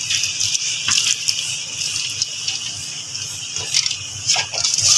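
Water pours steadily into a pot of boiling white dal mash (urad dal) being cooked at home, a continuous close splashing gush with brief surges, heard alone.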